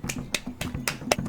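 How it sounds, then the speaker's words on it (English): Hands clap in a quick, sharp, fairly faint series of about five claps at an even rhythm, over low background hum. "that's me clapping"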